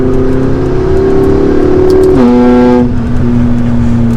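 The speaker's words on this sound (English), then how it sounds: "Once the boost hits, that exhaust makes some noise." A tuned McLaren MP4-12C with a turbocharged engine and upgraded exhaust accelerates hard, its loud steady engine drone climbing in pitch, then dropping sharply at a gear change before pulling on again, heard close without talk.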